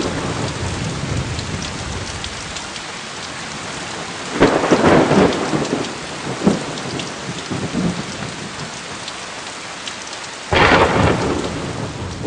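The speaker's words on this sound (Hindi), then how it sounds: "बाहर बरसात हो रही" Heavy rain pours steadily outside during a thunderstorm, a dense close hiss broken by two loud crashes of thunder with rumbling tails, one near the middle and another toward the end.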